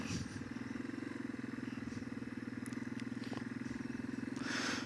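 A 2005 Yamaha XT225 motorcycle riding through a neighborhood, its single-cylinder engine putting out a steady, throbbing pulse up close, with wind noise in the mic.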